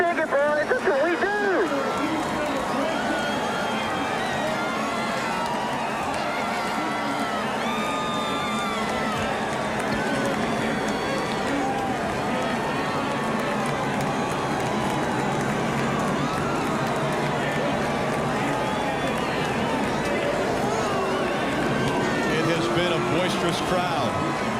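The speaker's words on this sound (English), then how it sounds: "Boisterous crowd." A boisterous crowd at a NASCAR race roars and cheers continuously, a dense wall of shouting and whooping voices that stays loud and sustained from start to finish.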